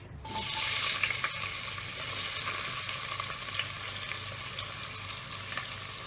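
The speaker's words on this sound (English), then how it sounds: "Once the oil is hot, I'm going to add onions." Onions frying in hot oil in a pan for a beef pepper masala, giving a steady, loud sizzle that starts abruptly and holds evenly throughout, with no talking.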